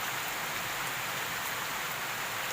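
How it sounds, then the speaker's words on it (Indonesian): Heavy rain pours steadily beside the Cimanuk river, a dense, continuous hiss of drops close by, with no voices over it. "Hujannya deras, lihat. Hujannya deras guys."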